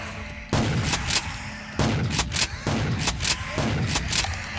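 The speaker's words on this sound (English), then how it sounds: "Shooting skeletons in the face with a pump shotgun." Pump shotgun blasts in Call of Duty Custom Zombies, four loud, evenly spaced booming shots each followed by a brief rattle of pump action and echo, heard alone without talk.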